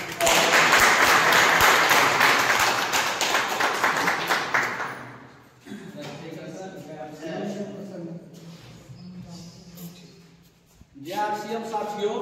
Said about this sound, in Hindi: हम आप लोगों के बीच में जोरदार तालियों के साथ हम संजय सर को इनवाइट करेंगे।